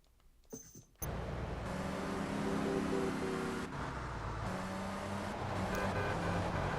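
Car engine in Grand Theft Auto III, a nippy car cutting in with a steady, close engine drone and road noise after a brief quieter moment, no voice heard.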